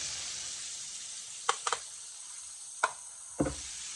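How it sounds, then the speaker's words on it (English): Faint steady sizzle of food frying in a pan, broken by a few soft clicks and taps of utensils, with no voices. "sorry for the frying in the back"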